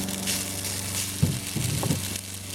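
Lobster and salt hit a hot pan in a noodle dish, giving a steady broadband sizzle with a few low thuds and bursts of frying as the pieces land, close and moderately loud with no talking.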